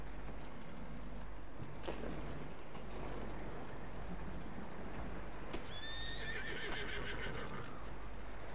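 Horse in Red Dead Redemption 2 whinnies loudly with a rising, shrill neigh late on, while steady clip-clop hoofbeats and ambient outdoor game sound run throughout.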